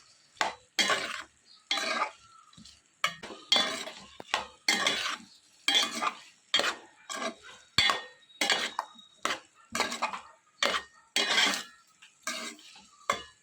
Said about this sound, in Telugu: కట్ చేసి పక్కన పెట్టుకున్న ఆలుగడ్డ ముక్కలు అన్నీ వేసుకుని ఇవన్నీ కూడా బాగా మిక్స్ అయ్యేలా కలుపుకోవాలి